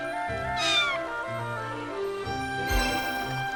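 A cat meowing in the video game The Adventures of Elliot: The Millennium Tales, with two clear, loud meows about two seconds apart over game music, and no talk.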